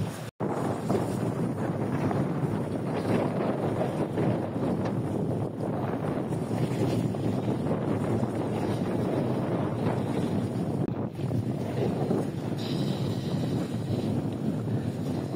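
Steady, heavy wind of about fifteen knots roaring across the microphone aboard a sailboat crossing a channel in the Caribbean, with a broad rushing wash of air and water noise throughout and no voices.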